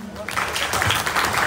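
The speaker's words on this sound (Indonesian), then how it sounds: "Kita beri tepuk tangan untuk Bapak Andi." Audience clapping for a speaker rises quickly into a dense, steady wash of applause, loud and close, while a voice speaks over it.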